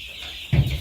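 Baby chicks of three kinds in a brooder with a feeder and waterer, clucking and peeping close by in a short, busy burst that grows louder halfway through.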